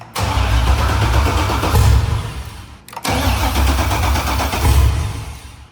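A Corvette Z06 C6 V8 cranks over and over without catching, injectors off, a loud, rapid chugging rhythm in two long bursts separated by a brief pause.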